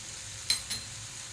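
Soybean curry with Kashmiri chilli powder, salt and sugar being sautéed in a pan gives a soft, low sizzle, broken by two brief scraping stir strokes close by, with no voices.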